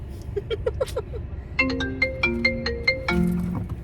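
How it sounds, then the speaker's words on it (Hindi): A mobile phone ringtone sounds for an incoming call, a bright melodic electronic tune of short repeating note phrases, close and clear over a low background hum, with no voices. "फोन तो आ गया, आएगा ही बीच में।"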